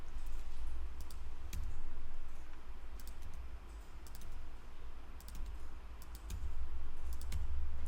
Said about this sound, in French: faire la touche Delete sur le clavier